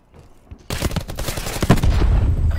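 Rapid gunshots in Call of Duty: Black Ops 4, a loud dense burst of automatic fire starting abruptly after a quiet moment and continuing to the end.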